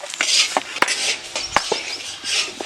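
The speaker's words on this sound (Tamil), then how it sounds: "வெள்ளத்தை நல்லா பொடி பொடியாக நறுக்குங்கப்பா." A knife chops jaggery finely on a board, giving sharp, irregular knocks spaced about every half second, with a scraping rustle between cuts and no talk.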